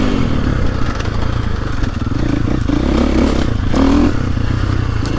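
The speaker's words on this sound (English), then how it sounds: "Probably the easiest 60 horsepower 450 motorbike there is to ride, far as engine control." A KTM 450 SX-F dirt bike ridden on a woods loop produces a continuous close engine drone with clattering and scraping over rough ground, steady and loud with small swells in throttle.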